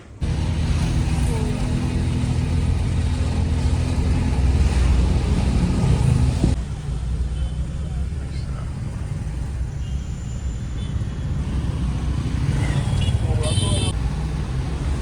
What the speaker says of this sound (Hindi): ये क्या है, छोटा देश और इतनी ट्रैफिक